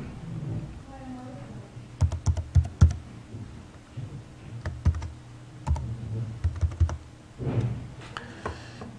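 Typing a password on a computer keyboard, crisp clustered key clicks in short irregular bursts with gaps, while someone talks intermittently in between.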